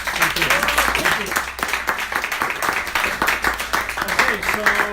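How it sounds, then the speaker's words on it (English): Warm applause from a Toastmasters audience welcoming a speaker at a live meeting: continuous sharp clapping from many hands, close and lively, with voices talking and calling out over it. "let's give a warm round of applause to Jimmy Petruzzi"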